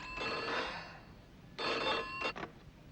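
A telephone rings in two trilling bursts, the first long and the second followed by a brief clipped ring, moderately loud in a quiet room.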